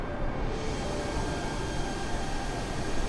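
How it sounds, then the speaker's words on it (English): Wind in Microsoft Flight Simulator, on a Virgin Australia airliner flight against a strong headwind, makes a steady, broadband rushing roar that stays even and continuous throughout, moderately quiet with no speech. "That's the wind."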